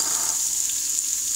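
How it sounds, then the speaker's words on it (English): Steady, loud sizzling of onion, garlic and ginger frying in hot oil in an Instant Pot, a continuous bright hiss with faint crackles. "So as you can see, they're sizzling and spluttering."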